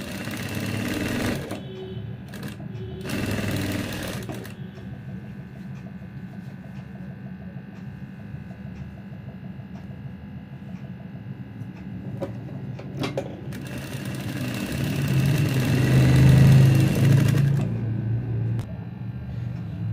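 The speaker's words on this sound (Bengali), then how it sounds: "তো এটা আমরা যেদিকে আমাদের সেলাই আছে, দেখেন এদিকে যেদিকে সেলাই আছে ওইদিকে আমরা জাস্ট একটা এভাবে বাঙ্গা দিয়ে একটা সেলাই করে নিব।" Sewing machine stitching a fall onto a saree, steady mechanical whir and clatter running in bursts with pauses, growing louder near the end, with no speech.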